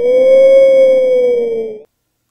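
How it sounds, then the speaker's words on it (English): A real rubber duck squeak, time-stretched into a long, steady, slightly wavering tonal howl, heard alone for under two seconds before it cuts off abruptly. "we had recorded a real rubber duck. It sounds like this after stretching."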